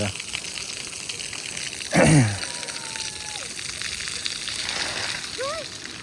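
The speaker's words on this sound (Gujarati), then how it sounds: "અને બકેટ ને પાણી ભરાય છે." Tap water gushes steadily into a bucket at home, a continuous splashing flow with a brief louder burst partway through and faint squeaks in the background.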